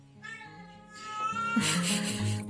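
A cat meows loudly and close by, with a few drawn-out, rising-and-falling calls that grow stronger toward the end. No one speaks.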